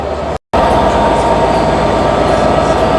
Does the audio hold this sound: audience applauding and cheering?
no